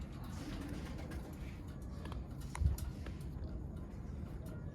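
Pedigree pigeons coo in a loft, a faint low murmuring that runs continuously with a slightly louder swell midway, and no one speaks.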